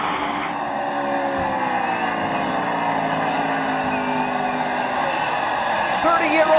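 Race cars roar around the Indianapolis track as Paul Menard heads toward the finish, a steady, loud engine drone with shifting pitch and tire noise, running under excited commentary throughout.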